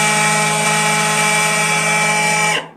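A Bosch GBH 187-LI cordless rotary hammer runs up close in auto mode, giving a loud, steady high-pitched whine with a motor buzz. It holds for about two and a half seconds, then quickly winds down and stops.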